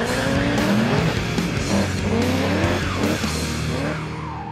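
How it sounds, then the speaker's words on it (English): A Holden Commodore coupe street car drives hard, its loud engine roaring steadily while tyres squeal and skid in repeated bursts over about four and a half seconds, close and continuous with no talk. "The car drives pretty well on the road."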